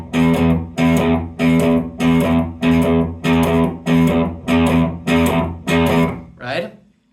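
Electric guitar chugs out a shuffled eighth-note riff in steady repeating bars, loud and close, ending on a final ringing strum.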